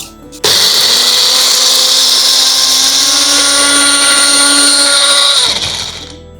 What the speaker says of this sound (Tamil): இப்போ இதை அரைச்சிடலாம்